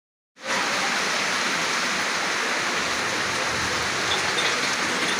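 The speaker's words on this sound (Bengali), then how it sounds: "বৃষ্টির দিন" Steady rain pours over a flooded three-way road junction, a dense, even hiss that starts abruptly after a brief silence and holds at a constant level, with no voices.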